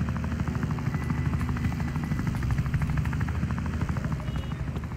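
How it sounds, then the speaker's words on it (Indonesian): Steady helicopter rotor and engine drone from a video game aircraft as it sets down and parks, continuous and fairly loud throughout with no voices. "Kita parkir dulu helikopternya di sini."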